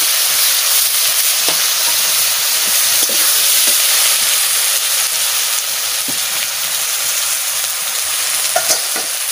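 Spice paste of coriander, cumin, tomato paste and ground dried red chilli fries in hot oil in a pan, giving a steady, close sizzle with soft scraping and stirring clicks throughout.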